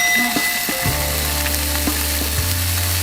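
Salmon frying in a hot pan hisses with a loud, steady sizzle close by, with faint stirring and no speech.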